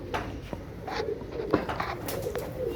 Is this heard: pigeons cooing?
yes